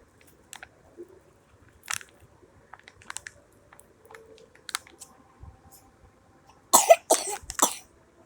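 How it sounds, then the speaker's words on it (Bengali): A young child coughs in a few scattered short bursts, then gives a louder cluster of three quick coughs near the end, close by in a quiet indoor room with faint handling noises between. "এখন কিভাবে কাশতেছে"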